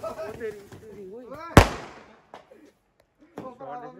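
A Diwali sky shot firecracker bursts once with a sharp, loud bang that rings out and fades, while people talk excitedly before and after the blast.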